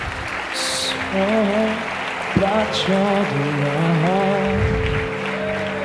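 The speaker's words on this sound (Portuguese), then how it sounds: "Dê um aplauso a Jesus por isso." Church congregation clapping during a Portuguese-language revival service, applause spread under a sustained melodic tone like a keyboard, with a brief sharp knock partway through.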